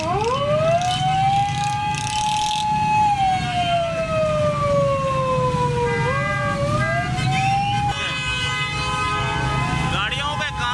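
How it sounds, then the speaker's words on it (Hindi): An ambulance siren wails continuously while the ambulance sits stuck in heavy city traffic during Independence Day celebrations in Islamabad, the tone sweeping slowly up and down, loud and close over engine rumble and crowd noise. "देखें एम्बुलेंस फंसी हुई है"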